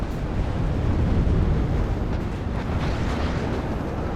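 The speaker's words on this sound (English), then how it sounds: "some heavier artillery is coming in now" Heavy artillery explosions in the WARNO war game, forming a loud, steady roar of deep booms and rumbling blasts that runs throughout without pause.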